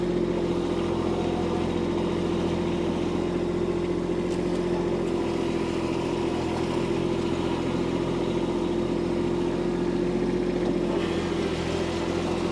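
A compact tractor's engine runs steadily in low gear, a loud, even droning hum that holds without change throughout.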